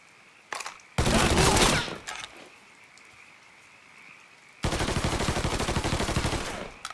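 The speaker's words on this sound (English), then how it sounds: "Parker won't stop shooting!" Automatic gunfire from the Mafia III video game comes in loud, rapid bursts. A short volley sounds first, then a quieter gap with a faint hum, then a longer sustained stream of close shots.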